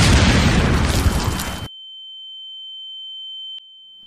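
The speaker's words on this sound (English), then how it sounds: "suddenly, out of nowhere, a bomb drops right in front of them." A bomb explosion sound effect bursts loudly and briefly, then cuts to a steady high ringing tone like a ear ringing, with a tiny click before it fades.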